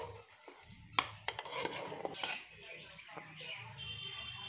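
Marinated chicken and rice for biryani being mixed in a pot, with scraping and clinking of a spoon against metal, a few sharp knocks early on, then softer stirring rustles throughout.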